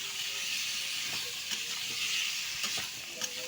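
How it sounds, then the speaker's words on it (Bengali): Ginger, cumin, garlic and green chili paste frying in a pan, a steady close sizzle and hiss running throughout with a few faint stirring clicks, no voices over it. "আদা জিরা রসুন কাঁচা লঙ্কা বাটা দিয়ে বেশ করে ভাজা ভাজা করে"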